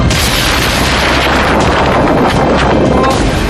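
A deafening explosion at a port in Iran, a dense, continuous rumbling roar with no break, steady and overwhelming for several seconds.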